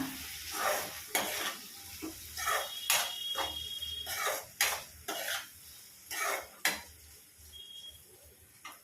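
Egg fried rice with tomato sauce being stirred and tossed in a hot pan, with repeated scraping strokes of the spoon against the pan over a constant close sizzle of frying.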